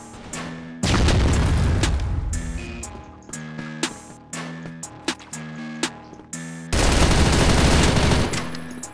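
Heavy gunfire and booming blasts burst loudly in the shooter game CrossFire, with repeated sharp shots and a big explosive roar at the start and again near the end.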